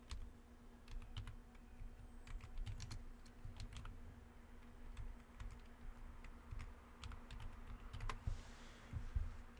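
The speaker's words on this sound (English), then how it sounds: "So if we're going to type Google Chrome," Keystrokes on a computer keyboard patter in quick, irregular bursts as a Windows package name is typed, close and clear over a steady low hum, with no talking.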